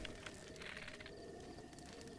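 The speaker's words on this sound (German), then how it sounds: "Da hinten haben wir Tauben." Pigeons cooing softly in the distance in the video game The Legend of Zelda: Breath of the Wild, a faint, brief murmur over quiet ambient background.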